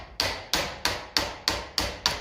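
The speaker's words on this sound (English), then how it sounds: "considering I'm using a lump hammer on this" A lump hammer strikes a part of a Ferguson 20 TEF tractor diesel pump in seven sharp metallic blows at an even, unhurried rhythm, close and clear with short decays and no talk.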